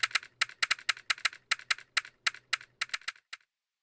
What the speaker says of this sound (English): Inamoto began typing on his keyboard.